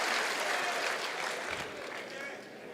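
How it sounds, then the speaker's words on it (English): An audience at an Art of Living national convention applauds itself in a broad, continuous wash of clapping that fades slightly toward the end. "Give yourselves a big round of applause"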